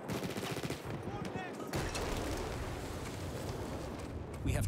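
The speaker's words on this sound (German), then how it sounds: "Da schießt einfach ein Sniper auf mich." Sniper fire and surrounding gunfire in the World War I shooter Battlefield 1, a dense, loud battlefield wash with sharp cracks and rumbling blasts running continuously, a brief lull near the middle before the clamor resumes.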